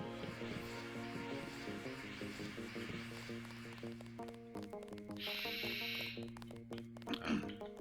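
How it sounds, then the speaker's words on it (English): A clothes dryer buzzer sounds once in the background for about a second, a steady electronic buzz over ongoing video game music and effects. "That was my dryer buzzer."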